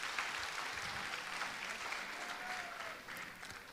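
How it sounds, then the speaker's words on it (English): Audience at a school gathering clapping together, a brief, steady round of applause heard from across a hall, fairly soft and even throughout. "So can we have a round of applause for this?"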